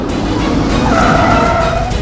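A car brakes hard to a stop in a street chase scene from a Hindi TV comedy series, with a loud, sustained tire squeal that swells midway over a steady engine and road roar.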